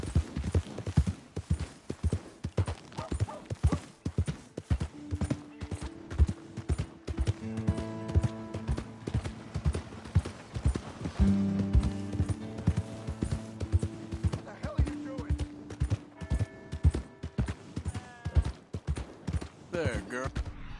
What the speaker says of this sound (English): Here's your horse back, friend.